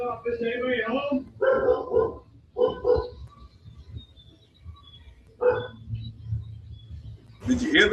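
A family dog barks inside a house during a deputy's walk-through search, giving a string of sharp, fairly close barks in quick clusters, with a short pause and then another burst near the end.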